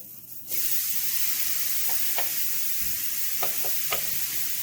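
Steak and cheese hit a hot grill and break into a loud, steady sizzle that starts abruptly and continues, with a few light scraping clicks from stirring over the hiss.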